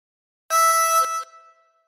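A single blown note on hole five of a harmonica rings out steadily for under a second, then cuts off with a short fading tail, played alone and close.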